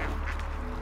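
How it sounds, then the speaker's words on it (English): Ducks quack at Southwick Park Lake, several calls close together over a steady outdoor background, with no talking. "the ducks showed no sign of letting up whatsoever"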